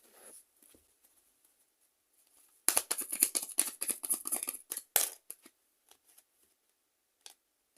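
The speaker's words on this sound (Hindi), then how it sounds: "चलिए एक एक कार्ड लेते हैं।" Tarot cards are shuffled and drawn up close, a burst of dense crisp riffling and flicking followed by a few scattered soft card slaps and slides, with no talk over it.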